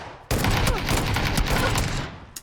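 AK rifle gunfire in a video game erupts in a dense, loud fusillade of rapid shots lasting about two seconds, then tapers off with one final crack.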